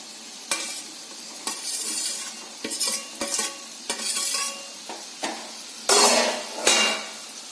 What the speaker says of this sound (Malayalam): നമുക്ക് ഇളക്കി ചേർക്കാം